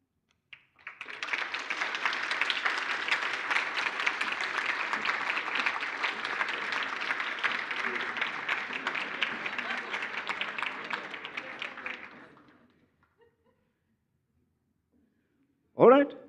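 Audience at a university award ceremony applauding for about eleven seconds, a broad, steady wash of many clapping hands that fades out, followed by a brief sharp sound at the end.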